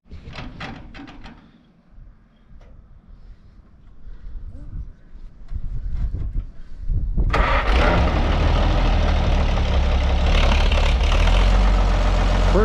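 A few clicks and a starter cranking, then an Oliver 77 tractor engine catches on a cold morning start and settles into a loud, steady low idle that continues to the end.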